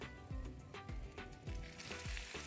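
Ginger-garlic paste fries in a pan, a dense, even sizzle with regular stirring strokes every half second or so. The sound is faint and steady, with no voices.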